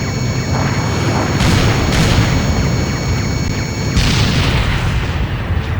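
Electro-laser cannons blowing up in the PSP flight combat game Ace Combat: Joint Assault: a dense, continuous roar of heavy booms and blasts with sharper bursts swelling near the middle and end, loud throughout.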